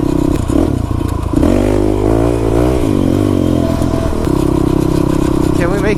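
An SSR 125 dirt bike engine buzzes steadily while the rider cruises around near a barn, the revs rising and dipping with throttle, loud and close throughout.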